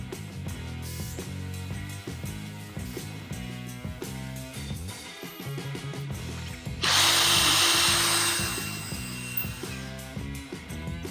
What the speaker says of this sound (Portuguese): vamos perfurar com parafuso alto brocante essa cantoneira com a espessura de 1/8